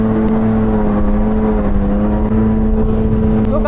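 A jet ski rides at Juhu beach, and its engine gives a loud, steady drone with a constant pitch that holds throughout, close and unbroken.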